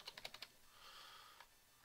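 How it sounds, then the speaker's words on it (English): Quick keystrokes on a computer keyboard, a rapid run of five clicks followed by a pause and a couple of isolated taps, close and quiet. "I'll type in keyboard"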